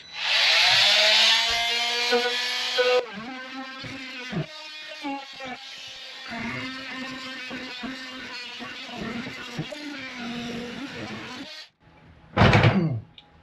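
A loud power tool cuts into material during a trailer conversion, a harsh high whine at the start, then grinding labored cutting with a voice over it, ending in another short sharp burst.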